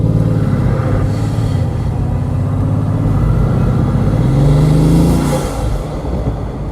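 A Bugatti engine roars and builds as it accelerates, loud and close, with a rising rumble and rushing wind throughout.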